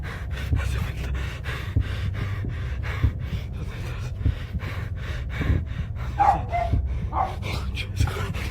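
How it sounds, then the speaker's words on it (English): A dog barks and yips in short, uneven bursts, with panting in between, over a rumbling, shaky indoor background. The sounds are moderately close. "Even the dog is barking."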